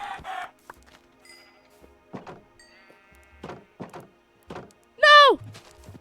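Minecraft chickens cluck in sparse, short calls, with one louder squawk near the end, while someone talks intermittently between them.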